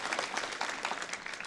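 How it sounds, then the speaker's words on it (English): An audience at a public library reading event applauds the book defenders, a brief burst of brisk, steady clapping from a modest crowd. "One more enthusiastic round of applause for the defenders"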